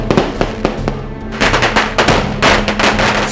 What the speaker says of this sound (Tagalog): lalabas ang mga malalakas na paputok tuwing magbabago ang ating taon.